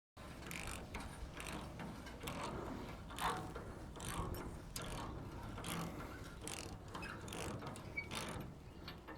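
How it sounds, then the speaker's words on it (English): Ratchet wrench turning a bolt on a hay baler, steady rapid clicking of the pawl in repeated bursts, close and fairly quiet with no talking. "Oh, there's that bolt. I mean, all right, I'm gonna get that ratchet."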